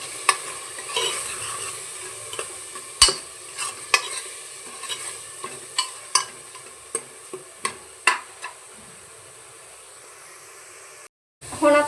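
Black chickpea masala roasting in a pan, a ladle scraping and stirring it in a steady run of sharp clicks over a soft background sizzle, ending with a brief gap and a louder burst.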